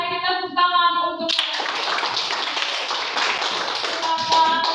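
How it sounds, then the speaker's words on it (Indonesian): Children in a school classroom clap their hands together in a burst of brisk, uneven clapping after a brief sung or toned passage, the clapping carrying on fairly close and steady. "kita tepuk tangan untuk"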